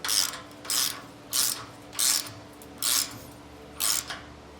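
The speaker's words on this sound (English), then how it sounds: "I can come back with my wrench, fully tighten it down" Wrench ratcheting on a bolt of an axle-less trailer suspension on a boat trailer: six evenly spaced rasping ratchet strokes, close and crisp, with quiet pauses between and no voice.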